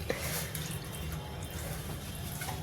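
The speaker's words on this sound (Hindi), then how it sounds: "अब इसमें डाल देते हैं थोड़ा गर्म पानी" Warm water poured into a pot of whole mung dal makhani, a steady close splashing trickle running for the whole short stretch with no talk.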